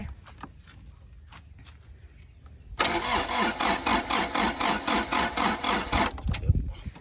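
A Hinomoto NZ210 four-wheel-drive 21-horsepower tractor fitted with a rotary tiller cranks and catches, then settles into a loud, close, rhythmic chugging idle after quiet background sounds.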